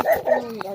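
A short dog bark or yelp, a couple of quick sharp vocal bursts close by, lasting under a second.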